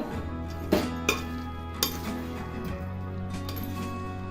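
Boondi ladoo pieces get stirred in sugar syrup with cardamom powder, a spoon scraping and clinking against the pot in a few sharp taps over low background hum.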